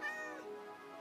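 A cat meows in modded Minecraft at an empty village, a single clear drawn-out meow that bends downward, close and alone with no talk over it.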